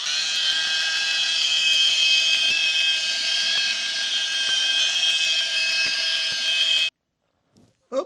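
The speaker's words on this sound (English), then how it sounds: "Buffing off the polish." A cordless rotary polisher buffing polish off a car, a loud steady high-pitched whine running continuously, then cutting off abruptly, followed by near silence and a couple of faint knocks.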